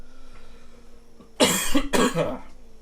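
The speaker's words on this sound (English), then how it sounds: "as I apparently am coughing and hacking more" Two sharp, close coughs in quick succession, with a faint electrical hum underneath and no talking.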